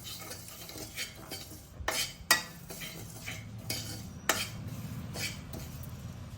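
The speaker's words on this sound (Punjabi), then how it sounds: "ਇਹ ਸਾਰੀਆਂ ਚੀਜ਼ਾਂ ਨੂੰ ਆਪਾਂ ਚੰਗੀ ਤਰ੍ਹਾਂ ਹੁਣ ਰੋਸਟ ਕਰ ਲੈਣਾ" Spoon stirring spices with asafoetida as they roast in a pan for a Rajasthani-style dry chana dal; scattered scraping and metallic clinks over a low, soft sizzle, without any talking.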